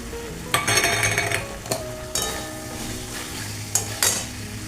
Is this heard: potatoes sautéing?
yes